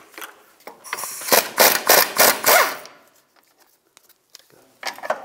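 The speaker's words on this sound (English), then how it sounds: "Remove the lower sway bar link nut. Use a 16 millimeter socket." A socket wrench with a 16 mm socket loosens the lower sway bar link nut on a 2004-2010 BMW X3 during rear wheel bearing work: about five quick, loud ratcheting bursts close up, then quiet with a few scattered clicks.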